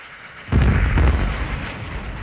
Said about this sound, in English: Anyone on the ground would hear two very loud bangs, known as the sonic boom.